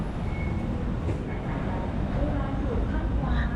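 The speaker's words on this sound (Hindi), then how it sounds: "मैंने प्रेफर किया मेट्रो से ट्रैवल करना" Steady rumble of a metro train ride in Bangkok, a continuous low roar of wheels and carriage noise throughout with faint higher squeals, fairly loud and constant.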